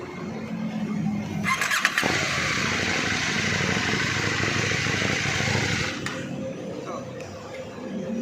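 A big bike motorcycle cranks and its engine catches, then settles into a steady loud idle that runs on for several seconds before easing slightly lower near the end.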